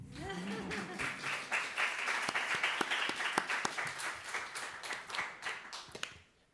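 An audience applauds in a dense run of clapping that builds, holds and then tapers off near the end, with a voice briefly audible at the start.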